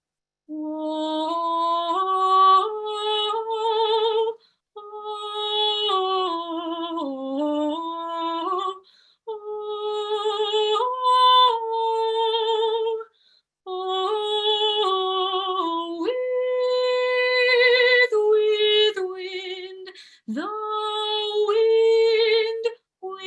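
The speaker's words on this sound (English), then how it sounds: "I'll sing through the whole alto 1 part again." A single alto voice sings the alto 1 part of a choral piece alone in an upper-voices sectional rehearsal, sustained phrases separated by short breaths, clear and close with no accompaniment.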